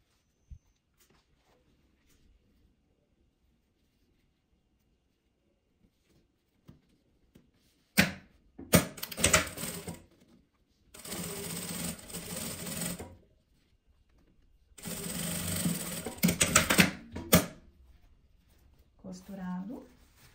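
Sewing machine with a presser foot stitching a zipper in bursts, running in several loud buzzing stretches separated by quiet pauses, with a few small clicks and handling sounds between runs.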